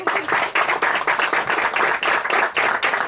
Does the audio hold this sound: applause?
yes